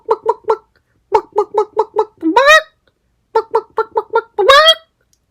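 A voice imitating a hen: three quick rhythmic clucks, a burst of six more, then a rising squawk, repeated with five clucks and another squawk, loud and close with silent gaps.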